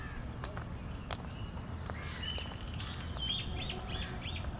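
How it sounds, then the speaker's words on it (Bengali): Scattered bird chirps and calls come from casuarina trees in the distance over a steady low rumble of outdoor background noise, in Barisal, Bangladesh. "কিছু কিছু পাখির কলকাকলিও শোনা যাচ্ছে গাছগুলোতে"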